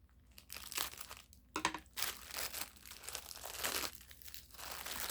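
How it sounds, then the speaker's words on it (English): Scissors snipping and tearing open a plastic shipping package, heard close and fairly quiet as crinkly bursts of cutting and rustling plastic that come and go irregularly. "scissors, do your thing"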